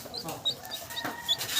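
Newly hatched chicks peeping in short, high chirps scattered across a brief moment, close by, with faint background rustle and no clear talk.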